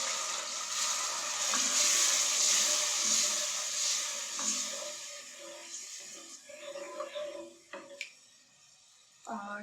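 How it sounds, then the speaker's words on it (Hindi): Water poured into a pan of sizzling masala for a beef kofta curry, a steady loud rushing hiss that fades into quieter bubbling and sizzling, with a few clinks near the end. "1 कप पानी शामिल करेंगे।"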